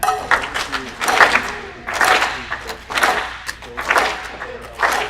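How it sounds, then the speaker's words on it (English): An audience claps along in unison to a drum rhythm at a mental health event, sounding as repeated bursts of crowd clapping in a steady pattern, with a voice talking over it. "So see if you can clap along with me again."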